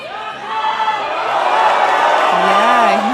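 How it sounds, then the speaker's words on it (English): A large crowd at a boulder climbing semi-final in Kaunas cheers loudly and steadily, swelling into a sustained roar with whoops, while a commentator's voice rises over the noise. "And then crowd cheering really,"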